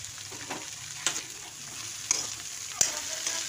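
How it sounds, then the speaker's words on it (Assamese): Chopped banana stem fries in a pan and is stirred, giving a soft continuous sizzle broken by a few sharp scrapes of the spoon against the pan. "এতিয়া মই পচলাখিনি দি অলপ লৰাই ল'ম"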